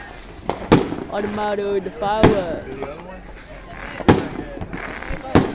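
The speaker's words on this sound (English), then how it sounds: "fireworks" Fireworks burst during a Fortnite in-game event, several sharp cracking pops spaced irregularly, fairly close and loud, while a person talks over them.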